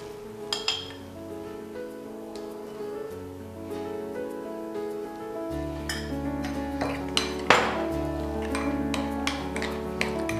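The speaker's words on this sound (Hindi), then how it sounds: "सबको अच्छे से मिक्स कर देंगे और इसमें अब हम दही मिला देंगे।" Pumpkin raita ingredients and curd are stirred in a bowl with a metal spoon, giving repeated clinks and scrapes of metal against the dish over a background hum, with a few louder knocks toward the end.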